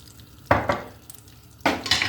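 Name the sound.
stirring butter and olive oil in pan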